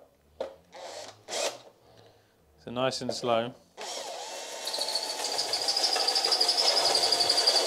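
Power drill boring a hole through a fiberglass kit car dash, with brief talk beforehand and then a steady, rising whine that builds louder and higher over several seconds.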